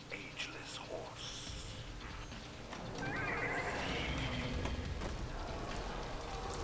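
A horse neighs and whinnies in a video game, with hooves clip-clopping, heard close and fairly loud against a busy background of game effects that grows denser partway through.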